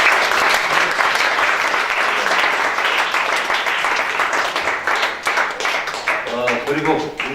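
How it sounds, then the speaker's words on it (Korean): Sustained applause from an audience at a school lecture, dense and steady clapping that thins toward the end as a voice starts speaking over it. "박수 한번 하겠습니다"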